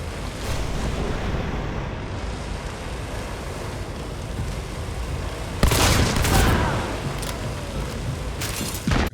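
Gunfire in Hunt: Showdown, including a Caldwell Rival, set against a constant ambient wash, with a loud burst of overlapping shots in the middle and another sharp report near the end.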